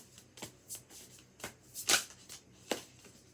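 Tarot cards being shuffled by hand, a series of crisp riffling and slapping bursts at uneven intervals, close and fairly quiet, with no talking.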